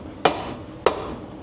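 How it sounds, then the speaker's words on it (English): Two sharp metallic hammer whacks on a rear axle part of a 1966 Ford during a gear job, spaced about half a second apart, close and loud with brief ringing decay. "I'm gonna need a hammer."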